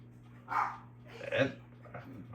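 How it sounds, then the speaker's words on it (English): A dog barks two or three times in the background, faint and somewhat distant, in a short burst of sharp yaps. "got dogs in the background"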